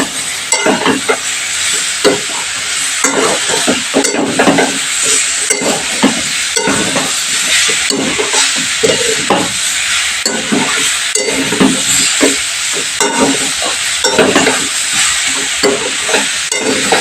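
Spice paste fries and is stirred in a pan for a broccoli vegetable dish. Loud, continuous sizzling runs throughout, with repeated scraping stirs and occasional light clinks.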